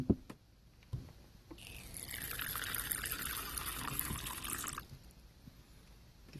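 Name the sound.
water poured into tarantula enclosure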